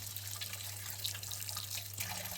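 Sliced ivy gourd (tondekayi) rounds washed under running water in a kitchen, a steady close rush of tap water with light splashing and dripping over a low hum, no talking.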